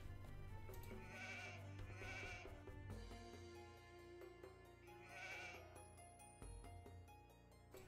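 Sheep bleating in Age of Empires 2 HD, several distinct quavering bleats sounding alone over a low background game hum.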